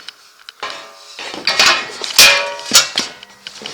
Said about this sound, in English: these footwells are steel, as you can hear, and they're heavy